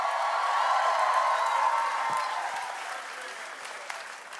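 Steady, full applause from a large audience at the Rangila show after the Pakistani Mastani act, sustained clapping filling the room and easing slightly toward the end, with faint cheers.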